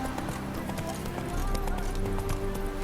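Roach, a horse in The Witcher 3, gallops with a steady clip-clop of hooves over a low music bed, the hoofbeats growing louder in the second half.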